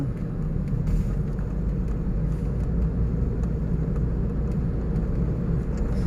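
A car driving on a road during a driving lesson near a Bangchak transport office test area, with a steady low engine and road rumble and faint clicking above it.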